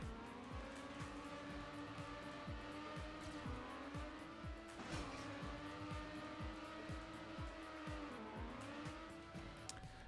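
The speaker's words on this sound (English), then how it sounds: "Can you hear the engine?" A racing car engine in the video game Trackmania Nations Forever revs at a steady high pitch, with rapid repeated ticking and gear-like dips and a brief tire squeal. It sounds loud and continuous, with no talking.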